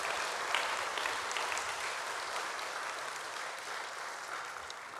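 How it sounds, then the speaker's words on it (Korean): Congregation at an evening church revival meeting applauding the choir, a continuous even wash of clapping from many hands, moderately distant and steady for several seconds. "다시 한번 우리 성가대 위에서 박수 한번 해줘요"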